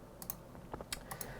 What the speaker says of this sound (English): Now we press Control and T on the keyboard